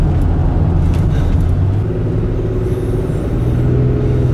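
A car climbs a mountain road on Suck Creek Road toward Prentice Cooper State Park, with a loud, steady engine rumble and road noise that stays constant throughout.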